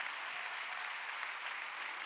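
A church congregation applauding during a Sunday worship service, a continuous, even rattle of many hands clapping together, sustained at moderate loudness without pause.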